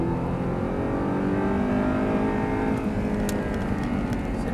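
An Audi R8 accelerates hard on full throttle on a track, its engine note rising in a loud, sustained roar with a rich, steady drone that builds across the whole stretch and has no voices over it.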